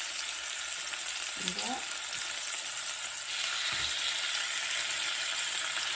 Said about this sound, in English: I'll be doing skin side down first so it could get nice and crispy.